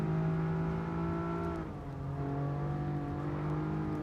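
A heavy Pro-Am race car in a racing video game at Mount Panorama drones with a loud, steady engine note that dips briefly mid-way, as if lifting off, then settles back to a constant hum.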